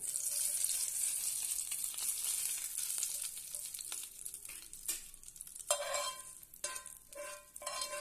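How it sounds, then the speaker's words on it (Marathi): Hot oil tempering with red chilli powder sizzles steadily, then bursts into louder hissing crackles as it is poured onto cool yogurt, with a few sharp clinks between. "ही फोडणी आपण या दहीवर घालूया"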